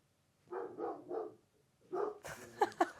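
A dog barks three times in a steady run, pauses, then lets out a few more sharp, closer barks, loud and clear with no talking over them.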